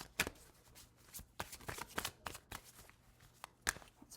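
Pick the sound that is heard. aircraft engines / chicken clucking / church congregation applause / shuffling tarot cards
shuffling tarot cards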